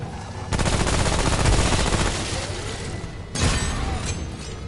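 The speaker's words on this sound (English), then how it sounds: "my teammate got in the way of my bullet." Gunfire in the video game Remnant: From the Ashes, loud dense bursts of shots filling the whole stretch, with a fresh volley starting near the end and no talking.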